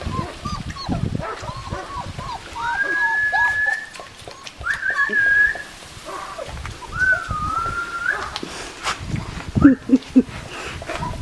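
Puppies in a kiddie pool whimper with thin, high whines in several drawn-out bursts, mixed with small yelps and shuffling noises nearby.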